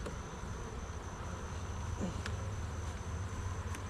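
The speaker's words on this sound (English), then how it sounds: "We got bees." Honey bees buzz steadily around an open hive during an October inspection, a close, continuous drone with faint outdoor background and no talking.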